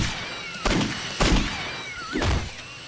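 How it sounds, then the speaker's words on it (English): Cat meowing in the video game Postal 2: three separate drawn-out meows spaced about half a second apart, fairly close and clear over a steady game background hum. "I hear more cats."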